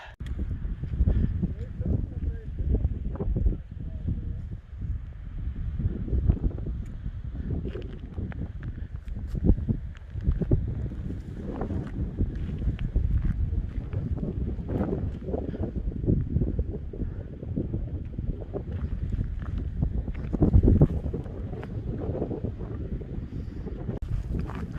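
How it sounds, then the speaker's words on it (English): Strong wind gusting across the microphone outdoors on a rocky hiking trail, a steady low roaring buffet that swells and drops for the whole stretch, loud and close, with no other clear sounds. "Wind's blowing so bad"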